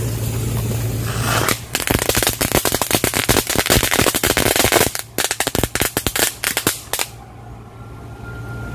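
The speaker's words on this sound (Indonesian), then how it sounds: "kita lanjut petasan telur komodo" A long burst of "telur komodo" firecrackers set off together, crackling in a dense, rapid string of sharp bangs for several seconds, then thinning into scattered pops before dying away.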